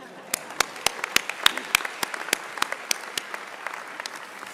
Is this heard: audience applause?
yes